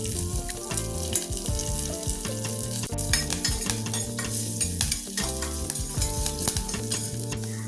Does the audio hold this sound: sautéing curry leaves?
yes